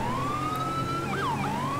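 A police car siren from the Rumbler siren mod in the video game Grand Theft Auto 5 wails steadily and loudly, one long rising tone that bends and swoops near the end, alone with no talking.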